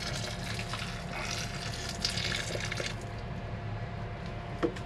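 About 700 ml of hot water poured into a Nature's Head composting toilet, a steady rushing, splashing fill that carries on without a break and fades slightly near the end, with no talking.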